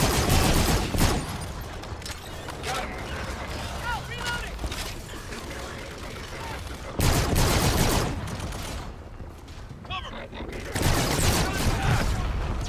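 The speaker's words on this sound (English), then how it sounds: "Dude, I'm shooting at you." Gunfire in Call of Duty: Infinite Warfare on Veteran difficulty, with loud bursts of rapid shooting and heavy blasts coming in several waves between quieter stretches, while a player talks over the action.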